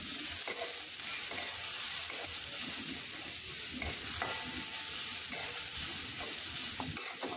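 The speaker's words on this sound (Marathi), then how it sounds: "आता यामध्ये आपण अद्रक आणि लसणाच्या काही पाकळ्या टाकून घेऊया आणि तेही या कांद्याबरोबर छान असे फ्राय करून घेऊया" Ginger, garlic cloves and onion fry in oil in a pan for spicy dhaba-style shev bhaji, giving a steady close sizzle with intermittent scraping stirs and light utensil knocks, no talking.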